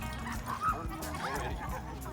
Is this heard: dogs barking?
yes